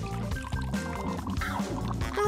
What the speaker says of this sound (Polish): Umieszczę je w wielkiej misce i zaleję gorącą wodą.